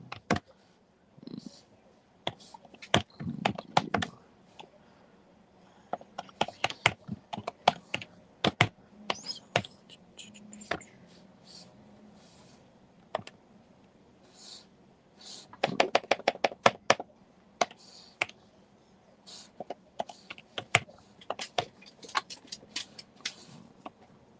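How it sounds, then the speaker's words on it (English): Someone types on a computer keyboard, with irregular bursts of close, crisp key clicks and taps, some dense runs and some pauses, and no talking over them. "I'll just type something real quick."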